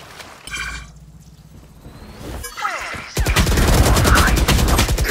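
Gunfire in the tactical shooter Valorant, a loud sustained burst of rapid rifle shots following a brief earlier shot and game effects, close and dominant.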